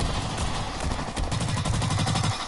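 Rapid bursts of automatic gunfire from a video game weapon, close and loud, a quick rattling stream of shots with a brief pause before another fast run.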